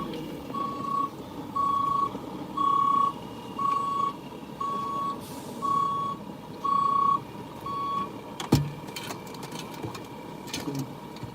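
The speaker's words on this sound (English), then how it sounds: "Another truck is passing us." A truck passes on a road under construction in Hanover, Jamaica, heard as a steady low rumble. Regular reversing beeps repeat throughout, and a sharp knock comes near the end.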